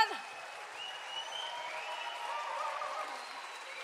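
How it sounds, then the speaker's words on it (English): Faint audience applause for performers at a 10-year anniversary concert, a steady patter of clapping heard from a distance with high-pitched tones over it. "Huge round of applause to our Cayley Trail Super."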